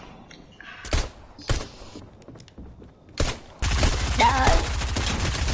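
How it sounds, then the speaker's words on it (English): Gunfire in Fortnite: a few scattered single shots, then a sustained, loud burst of rapid automatic fire near the end, with a brief spoken word. "Someone's shooting."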